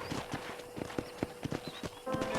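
Horse hooves in Red Dead Redemption clip-clop in a quick, steady trotting rhythm, close and fairly clear, with faint background ambience.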